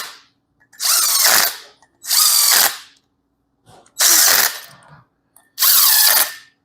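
A power tool spins out the Allen bolts of a Subaru cylinder head in four loud, whirring bursts of about half a second each, separated by short silences.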